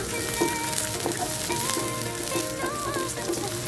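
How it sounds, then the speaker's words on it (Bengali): Chopped onion and green chili frying in hot soybean oil, a steady close sizzle and crackle that holds evenly throughout with no talking. "তেলটা গরম করার পর আমি একে একে দিয়ে দিচ্ছি পেঁয়াজ এবং কাঁচামরিচ কুচি"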